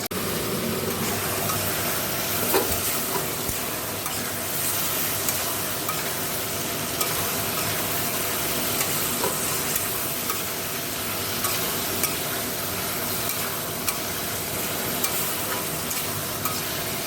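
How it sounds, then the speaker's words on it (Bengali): Tomatoes fry in hot oil in a kadai, giving a dense, steady sizzle and crackle throughout, with occasional stirring scrapes. "টমাটোগুলো ভাজা হোক।"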